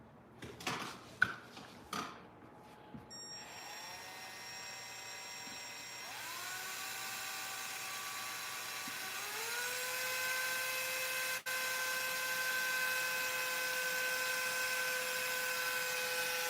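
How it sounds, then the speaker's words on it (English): A power drill bores a hole into a plastic toy car, its motor whining steadily and climbing in pitch as the bit bites, preceded by a few sharp handling clicks and knocks at the start. "Now you keep drilling and back off."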